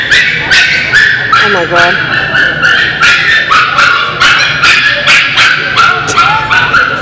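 A small dog whimpers and yips repeatedly in high, wavering cries and short barks, close and loud, while people talk and react over it.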